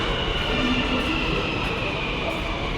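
Metro train at Uppal metro station in Hyderabad, a loud steady rumble and hiss of rolling carriages filling the space, with a voice faintly underneath.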